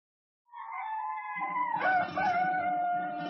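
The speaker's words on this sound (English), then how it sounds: "the sound of the crowing of a cock, the cock at the mission" A rooster at a mission in the Amazon crows once in a long, clear call that rises and then holds a steady tone, heard alone with no other sound around it.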